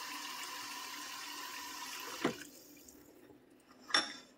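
Water pours into a cooking pot to cover a chuck roast for a simple Southern home recipe. A steady rushing splash runs for about two seconds and then stops, followed by a couple of sharp clanks and drips.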